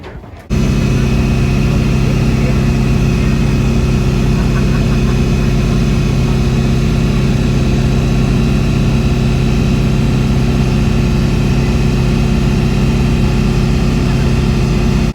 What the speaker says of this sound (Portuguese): é um barco coletivo